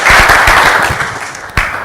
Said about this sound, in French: on t'applaudit bien